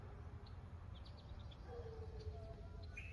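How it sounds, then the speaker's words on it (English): Birds chirping beside a clear lake on a fishing outing, a few faint high calls and short whistles scattered over a low steady outdoor rumble. "Here's the lake, very clear, the sounds of bird."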